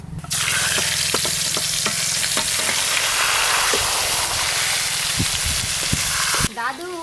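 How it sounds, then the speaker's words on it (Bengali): Pangas fish pieces frying in hot oil in a pan, a dense loud continuous sizzle with scattered clicks and pops of stirring, fading out at the end as a voice briefly comes in. "মাছগুলো একদম কড়া করে ভেজে নিয়েছি।"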